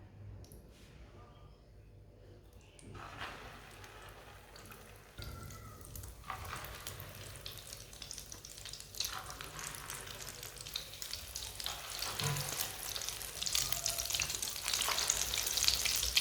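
Egg-dipped potato tikkis frying in hot oil, a sizzle that starts soft and grows louder as more pieces go in, with occasional clinks and a faint voice in the background.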